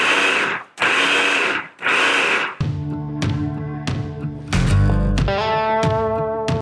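Cremini mushrooms pulsed in a food processor: three loud, even bursts of whirring chopping with brief gaps between them, followed by background music.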